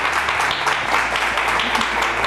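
A brief burst of applause from a television studio audience, steady clapping throughout, moderately loud with no clear speech.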